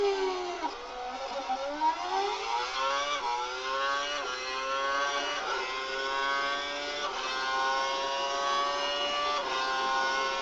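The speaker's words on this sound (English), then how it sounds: "Head down the track, accelerating past 160 miles per hour, then brake so that you come to a complete stop in the designated area" Formula 1 car in a racing video game with its engine locked to a lean setting, accelerating hard down a straight to over 160 mph: a continuous high-pitched engine whine climbing steadily through rapid upshifts, loud and alone.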